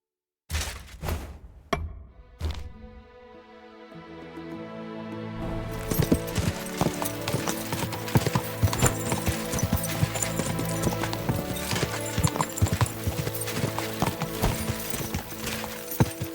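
Horse hooves in the medieval video game Kingdom Come: Deliverance II: a few sharp knocks, then a steady, rapid clip-clop of galloping hoofbeats that continues loudly and evenly to the end.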